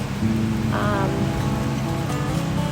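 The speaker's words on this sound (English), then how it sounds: "So it's raining." Steady rain pours down on raw land being cleared, a dense continuous hiss with a low rumbling undertone and no voices.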